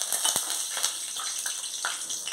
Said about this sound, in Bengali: তেলটা গরম হয়ে গেছে, আমি এখানে গোটা গরম মশলাগুলো দিয়ে দেব